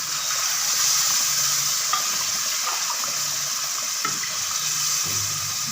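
Water poured into semolina roasting in ghee sets off a steady hissing sizzle, with stirring scrapes and soft clatter close by and no speech.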